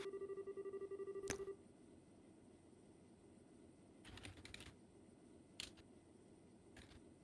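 Faint keyboard typing comes in short scattered clusters of soft clicks, after a steady electronic ringing tone cuts off at the start, in a game scene from Trails in the Sky the 3rd.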